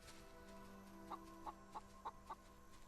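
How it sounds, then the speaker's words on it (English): A chicken in the video game Solarpunk gives about five short, evenly spaced clucks over a steady low hum of game background sound. "There's a chicken."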